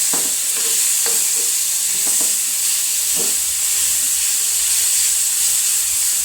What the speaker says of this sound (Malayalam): തക്കാളി ഒന്ന് വഴണ്ട് വരുമ്പോഴത്തേക്കും കുറച്ച് ഉണക്കമുളകും കൂടി ഇട്ട് കൊടുക്കാം അതിൻ്റെ കൂട്ടത്തിൽ